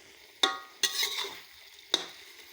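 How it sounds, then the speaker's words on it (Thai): Eel being stir-fried with curry paste in a pan for a spicy Thai holy-basil dish, with three sharp spatula scrapes against the pan over a low background sizzle. "ขัวไปขัวมาจนว่าน้ำสีแห้งนะครับ"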